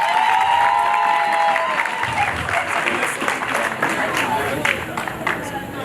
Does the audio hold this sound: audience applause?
yes